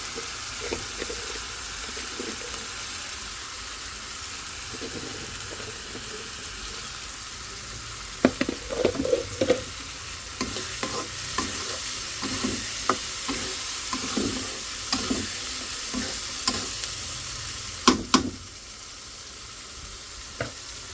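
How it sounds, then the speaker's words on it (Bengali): Fish pieces cut into thin strips stir-frying with spices and salt in a pan, a steady soft sizzle broken by a run of scraping stirs and clinks in the second half, close and moderately loud with no voices. "মশলাটা ভালো করে কষাই নিই লবণ দিয়ে নেই লবণ দিয়ে দিই"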